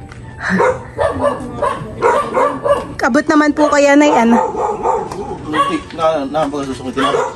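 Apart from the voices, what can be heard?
dogs barking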